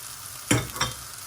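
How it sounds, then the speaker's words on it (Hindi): Spices are stirred into garlic-ginger paste frying in a pan for a lentil and mixed vegetable soup: two close scraping stirs rise over a steady low sizzle. "और इसको थोड़ा मिक्स कर लेंगे।"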